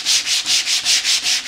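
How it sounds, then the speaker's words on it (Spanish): Carved wood being hand sanded with 120-grit sandpaper, heard up close as a steady rhythm of seven or so even, hissing rubbing strokes back and forth, with no talking. "vamos a ir lijando"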